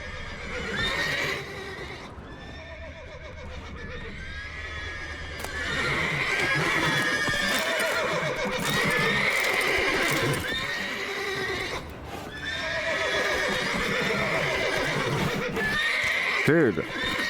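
Horses in the Witcher 3 video game whinny and neigh with clip-clopping hooves, carried over a steady game soundscape while a person talks throughout, with a sharp, loud whinny near the end.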